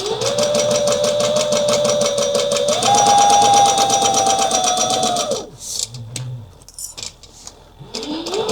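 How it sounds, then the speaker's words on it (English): A sewing machine stitches a clutch wallet in a loud, steady whirring run that shifts slightly in pitch partway, then stops, leaving scattered handling clicks before the motor starts again. "Definitely go as slow or as fast with your stitching as you're comfortable going."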